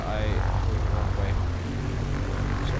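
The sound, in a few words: Mooney Bravo propeller airplane taxiing on the runway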